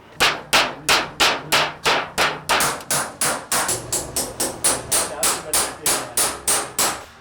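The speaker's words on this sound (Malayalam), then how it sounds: "ഈ ഉളി കൊണ്ട് മാത്രമാണ് കട്ട് ചെയ്തെടുക്കുന്നത്" Hammer repeatedly striking a chisel to cut through ordinary galvanised iron (GA) sheet, making stencil cut-outs of election symbols; a steady run of about twenty loud, sharp metallic blows at an even, quick rhythm, close by with no talking.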